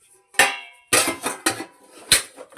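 Dishes and plates clatter in several sharp, close bursts with short pauses between as they are washed, no talking.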